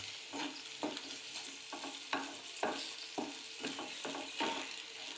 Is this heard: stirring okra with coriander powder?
yes